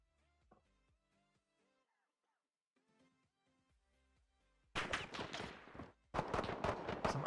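Call of Duty Modern Warfare gunfire in a 2v2 Gunfight tournament match, loud rapid bursts of shots arriving abruptly after a quiet stretch of faint game tones and clicks.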